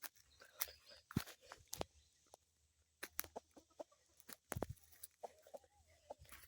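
A rooster and hens on a farm cluck in short, scattered bursts, close and fairly quiet, with gaps of near silence between them.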